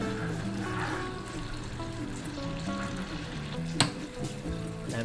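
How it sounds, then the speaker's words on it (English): A teriyaki-style sauce of soy sauce and sesame oil bubbles and simmers in a pan, a soft, steady crackling boil heard close, with tonal background music and one sharp clink near the end. "bring it up to a boil, and allow it to heat for 3 minutes to reduce and thicken the sauce a little bit"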